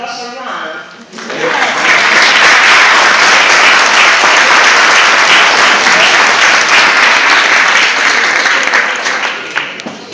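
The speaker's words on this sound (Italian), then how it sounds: "facciamo un applauso a mano" After a brief spoken line in Italian, a conference audience bursts into loud, sustained applause, dense clapping that fills the room and holds steady to the end.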